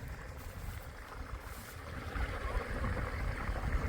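Irrigation water runs steadily through a wheat field on a farm, a continuous broadband rush that swells slightly louder over the moment, with outdoor wind in the background and no talking.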